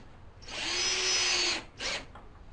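A power drill drives a screw into the wood of a shop-vac dust separator cart, with a steady whine for about a second and then a shorter second burst as the screw seats.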